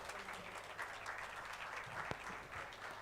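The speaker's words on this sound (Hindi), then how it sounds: "आप सभी से दरख्वास्त है कि सर के लिए तालियां" Audience applause for a speaker invited on stage at a steel sector industry event, a faint, even patter of clapping from a distant crowd with one sharp thump near the middle.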